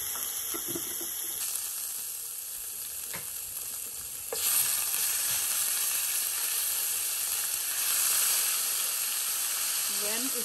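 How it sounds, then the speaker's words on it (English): Curry leaves and ginger garlic paste sizzle in a hot pan while red cabbage and radish are being cooked, a steady frying hiss that swells louder about halfway through and keeps going close up. "Now we are going to add some curry leaves. And we are also going to add some ginger garlic paste."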